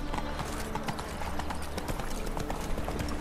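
Roach, Geralt's horse in the video game The Witcher 3, gallops with steady rapid hoofbeat clip-clops throughout, close and continuous over a faint ambient game soundscape.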